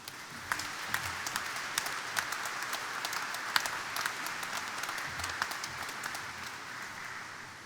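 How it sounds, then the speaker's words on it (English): Crowd applause at the outdoor christening ceremony of the ship USNS Billy Frank Jr (T-ATS 11) at Austal USA, a steady wash of many clapping hands heard from a moderate distance, with no voices over it. "I'd just like to say thank you and ask for a round of applause."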